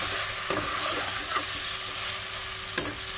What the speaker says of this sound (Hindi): हमारा चिकन अच्छे से फ्राई हो चुका है